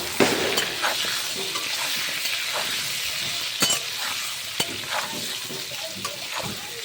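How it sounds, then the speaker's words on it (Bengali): Potatoes fry in a pan with a steady, close sizzle, punctuated by a few sharp scrapes and clatters as they are stirred. "চলো আলুটা ভাজতে যাবো"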